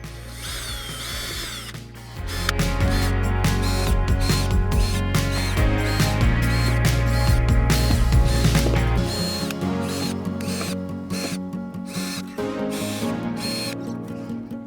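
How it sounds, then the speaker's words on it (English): A power drill pre-drilling screw holes for a caravan access door whirs loudly and steadily for several seconds, then runs on with a slightly different pitch and some ratcheting clicks, close by. "let's pre-drill all these 18 holes."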